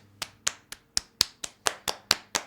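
Hands patting and clapping on bare skin, ten sharp, close slaps in a quick, fairly even rhythm, each one crisp and isolated against near silence.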